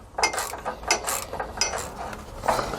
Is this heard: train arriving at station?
no